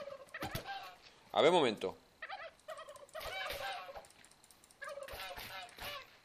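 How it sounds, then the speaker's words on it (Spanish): Killer turkeys gobble in the video game How to Survive 2, several close, loud, warbling gobbles in quick succession, with someone briefly speaking between them. "Tío, pero ¿por qué no dejan de venir pavos?"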